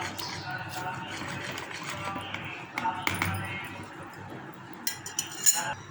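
A spoon stirs a besan and ghee mixture in a bowl, giving light scraping and intermittent clinks against the sides, soft and close, with a few sharper taps near the end.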